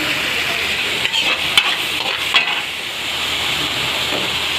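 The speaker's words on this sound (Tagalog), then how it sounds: "gisahin lang po natin ang ating giniling" Ground meat sautéing in a hot pan for ampalaya stir-fry, a steady loud sizzle and hiss with a few brief stirring scrapes and clatters, no talking.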